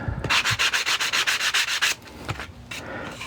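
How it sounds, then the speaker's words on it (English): Rapid rhythmic back-and-forth strokes of sandpaper hand sanding a wooden keepsake box, about a dozen even passes, close and loud, then a few softer scrapes. "if you do it with hand sanding"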